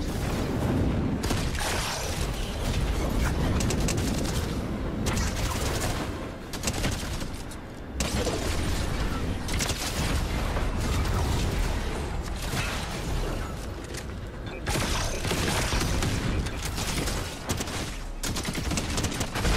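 Rapid, relentless bursts of turret gunfire mixed with booming explosions in the Fortnite video game, loud and close, coming in long sustained volleys separated by short breaks, with no voices heard.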